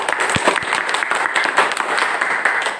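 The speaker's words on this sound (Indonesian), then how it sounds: "Ya, kita beri tepuk tangan dulu." A classroom of students applauding after a group presentation, dense, close, steady clapping from many hands lasting a few seconds without talk.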